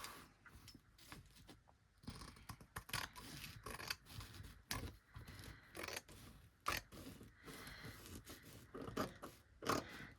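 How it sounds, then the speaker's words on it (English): Scissors cut through embossed fabric in a run of quiet, close snips and crisp blade closures at an irregular pace, with faint handling rustle between cuts. "we just get our scissors and we literally use the base envelope as your guidelines and cut that shape"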